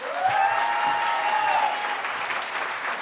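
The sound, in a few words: audience applause at awards ceremony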